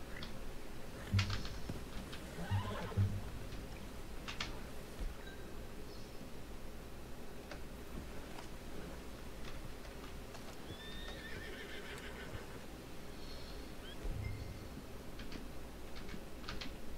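A horse in Red Dead Redemption 2 whinnies and snorts while scattered hoof clops land now and then over a steady low background hum.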